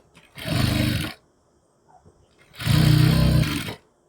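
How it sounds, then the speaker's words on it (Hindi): A sewing machine stitches the bottom seam of a pajama in two loud, close bursts of rapid whirring, each about a second long, separated by a quiet pause. "ये नीचे की सिलाई हमें लगा लेनी है पजामे के।"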